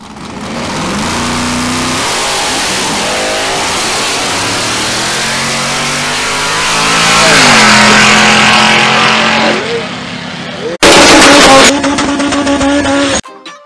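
A boosted Honda Civic with a turbocharged engine revs hard at a North Carolina drag strip, a loud, sustained roar climbing and dropping through several gear changes, then a sudden burst of harsher, louder noise near the end.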